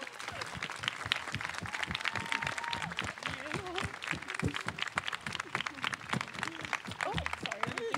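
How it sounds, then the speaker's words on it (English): Audience at an UndocuGrad 2023 graduation ceremony applauding after a speech, steady dense clapping at moderate distance with some voices underneath. "Let's give her another round of applause"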